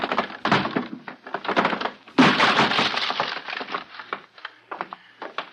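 A wooden door is forced open in a radio drama: repeated heavy blows and splintering cracks, then a loud burst of crashing and scattering debris that tapers into scattered knocks.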